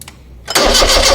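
A car engine, under an electrical voltage drop test, cranks briefly and then catches, jumping into a loud, close, steady running roar within about half a second.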